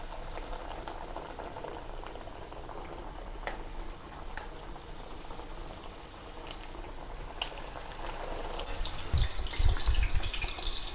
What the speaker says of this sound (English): Then place the pork loin into the hot oil gently to avoid splattering.